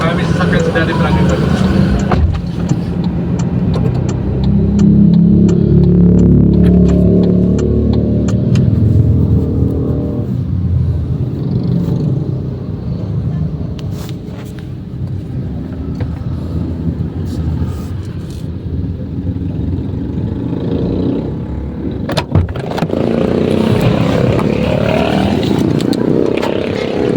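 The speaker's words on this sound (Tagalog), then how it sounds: "Marami sasakyan sa Daddy Frankie" Cars and other vehicle engines pass by on a Philippine street, a steady loud rumble with revving swells and occasional sharp knocks, while people talk over the traffic.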